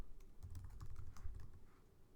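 Typing on a computer keyboard while writing Java code: a quick, uneven run of soft clicks and taps, close but faint, with no talking.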